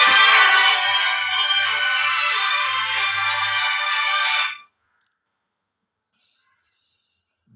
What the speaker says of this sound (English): Sorry, there is some phone call from my home